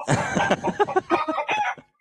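A rooster crows loudly and close by, one long harmonic call with clucking-like breaks, heard alone without talk.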